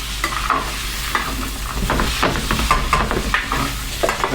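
Onions sizzle and fry in a pan while being stirred for a cauliflower and kale hash, a steady close crackle punctuated by scraping and clacking as a utensil moves them around.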